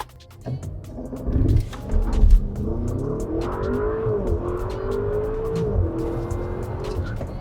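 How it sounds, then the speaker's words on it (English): A Stage 1+ tuned Audi SQ7 SUV engine roars up through rising gears during a launch with a brief tire squeal, loud and close, the pitch climbing steadily as it accelerates hard. "would you like to sit in the car for a launch really quick?"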